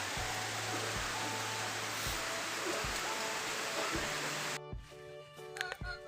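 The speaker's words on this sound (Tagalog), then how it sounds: "So umuulan dito guys." Steady rain falling in a rural province, a broad continuous hiss for most of the clip with faint low thumps beneath, cutting off abruptly near the end.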